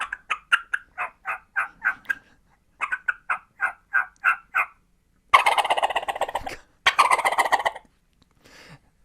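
A man imitates a wild turkey with his voice: two runs of rhythmic, evenly spaced yelps, then a fast rattling gobble in two bursts, close and loud with short silences between.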